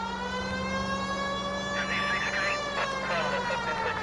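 Police car siren from the video game L.A. Noire, a steady wailing tone held throughout with a rising sweep near the middle, loud and continuous with game engine noise beneath.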